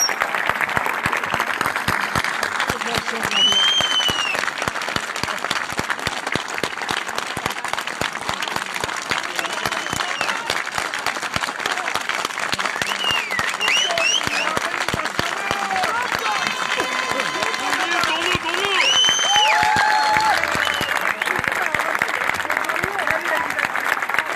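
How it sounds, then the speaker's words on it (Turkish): Sustained crowd applause for the Seferihisar mayor, thick rapid clapping from a large audience with occasional whistles and cheers, lasting throughout at an even loudness. "Seferihisar Belediye Başkanımız Sayın Tunçler'e kocaman alkışlar hep beraber"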